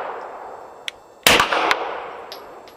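A single sharp rifle shot rings out at close range and decays into a brief metallic ring, preceded by a small click, with a Callaway ballistic chronograph measuring it nearby.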